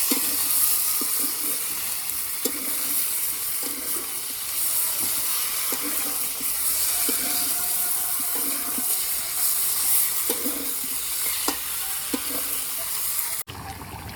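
Meat being braised and stirred in a pan over a wood fire, a steady loud sizzle with regular scraping stir strokes throughout, close.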